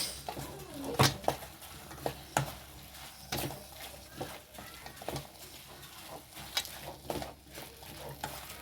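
A spoonful of poppy seeds and spices fries in a pan for a mushroom masala gravy, with a steady close sizzle broken by scraping stirs and utensil knocks against the pan.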